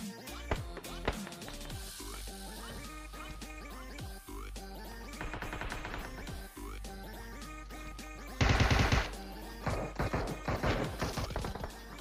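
Gunfire in PUBG Mobile during a fight in the Asia version of the game, with sharp shots scattered through a busy mix of game sounds and a loud, dense burst of rapid fire near the end.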